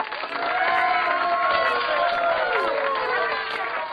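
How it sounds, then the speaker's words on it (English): A crowd cheers a king wearing his crown, with many overlapping voices shouting and whooping excitedly in a loud, continuous burst of jubilant noise. "Everyone was cheering."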